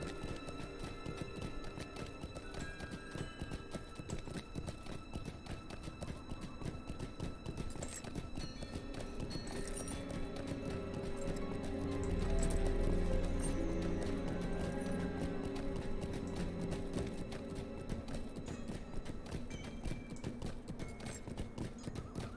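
Horse hooves in an MMORPG, a continuous quick clip-clop of a mount on the move, steady and moderately close, with game music and an occasional whinny.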